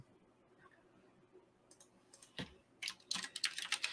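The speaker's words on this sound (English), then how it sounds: "I was typing up something randomly." Rapid clicking of fingers typing on a computer keyboard, quiet at first and then growing louder and denser in irregular bursts toward the end, with no voices.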